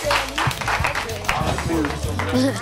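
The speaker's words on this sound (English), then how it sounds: "I'll give you a lot of applause." A classroom full of students claps together for their class, a dense, steady patter of hands heard close by, mixed with voices talking over it throughout.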